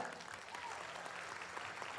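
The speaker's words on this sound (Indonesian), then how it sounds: "Tepuk tangan paling meriah pun Anda." Brief, even burst of audience applause at a motivational business seminar, a continuous wash of many hands clapping, fairly faint and distant for about two seconds.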